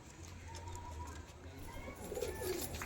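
Soft cooing of Rampuri pigeons over a low steady background hum, with a few faint murmurs and rustles; the coos grow slightly louder toward the end.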